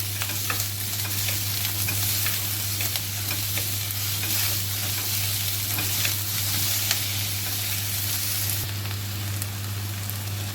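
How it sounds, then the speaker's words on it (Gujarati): Vegetables roast over a full flame in a kadhai for kadhai paneer, a dense continuous sizzle with faint stirring scrapes and a steady low hum underneath, close and loud. "આપણી સબ્જી રોસ્ટ થઈ ગઈ છે."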